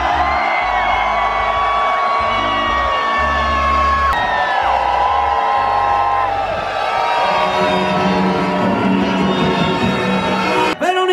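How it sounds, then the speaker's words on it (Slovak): A large crowd at the ski World Cup in Jasná applauds, whoops and cheers continuously, loud and dense, while an announcer speaks over a booming public-address system. "nech odchádza do obrovského aplauzu"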